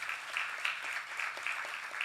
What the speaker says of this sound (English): And I'd like a round of applause for my wonderful panelists